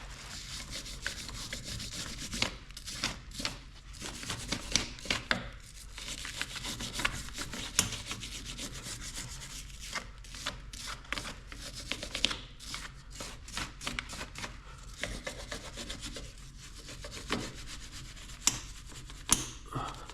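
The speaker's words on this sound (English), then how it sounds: "We'll have to take a wire wheel." A wire wheel scrubs caked dirt and mud off the frame of a Honda TRX450R ATV, giving a harsh, continuous scratchy rasp with irregular bursts and pauses as it is pressed and shifted.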